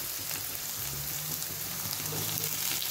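Ripe tomatoes sautéing in a pan for urundai kulambu, a steady, soft sizzle and fry crackle running continuously with faint low kitchen rumble beneath, no talking.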